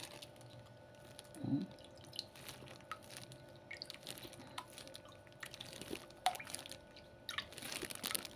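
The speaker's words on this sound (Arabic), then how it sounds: "وهنحط ميه احنا مدوبين فيها الملح والسكر" Brine of water with dissolved salt, sugar and vinegar poured into a jar of turnips for pickling, soft trickling and dripping liquid with small clinks, faint and close.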